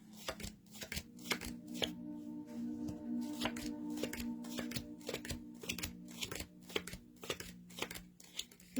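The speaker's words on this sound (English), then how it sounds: "I'm getting these cards out." Tarot cards being shuffled by hand, a steady run of crisp riffling bursts and soft slaps close to the mic, with a low steady hum underneath and no talking.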